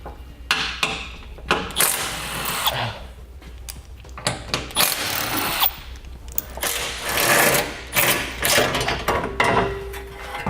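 A ratchet wrench works loose 13mm bolts from the front skid plate under a 2016 vehicle, sounding as bursts of close, rapid clicking and metallic clatter separated by short pauses, with no talking.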